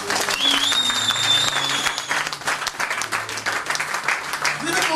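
A church congregation breaks into applause, a dense wash of clapping filling the room, with a sustained sung or shouted voice and tones rising over it before the clapping thins out.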